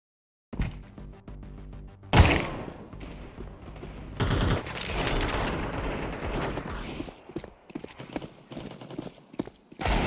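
Video game gunfire: a burst of rapid shots, then sustained fusillades mixed with horse hoofbeats, loud and dense before thinning into scattered clip-clops.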